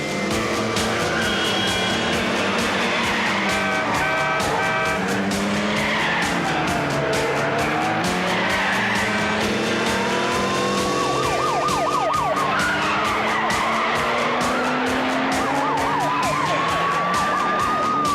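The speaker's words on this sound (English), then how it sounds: "So this leads to a little bit of a car chase." A 1987 film car chase: roaring engines, repeated tire squeals and skids, and a wailing siren rising and falling in the later half, all dense and continuous at high volume.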